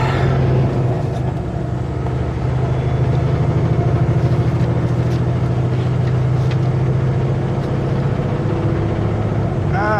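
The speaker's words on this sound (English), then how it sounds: "Engine brakes max." A truck with its engine brake set to maximum drones steadily, low and loud, while descending a mountain road in the Canadian Cascades, with a constant rumbling throb and no talk.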